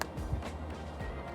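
A fresh collard greens stalk grown in a torpedo pot is snapped and crunched close up, giving a few short, crisp low cracks over a quiet background, with no talking.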